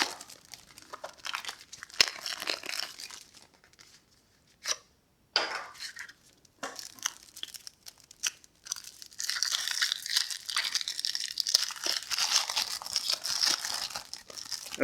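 Foil wrappers on 1994 Flair baseball card packs crinkle and tear open in close, bursty handling, with brief quiet pauses between rips and a sustained stretch of crumpling near the end.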